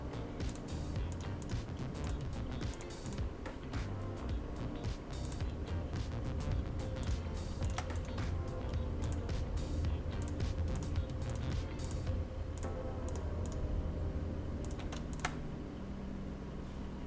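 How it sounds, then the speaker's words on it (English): Quick, irregular mouse and keyboard clicks from spreadsheet work tap on and on in close rapid bursts over a low engine-like rumble from a Roblox British Railway train. "all the clicking you're hearing me doing is me working on the spreadsheet"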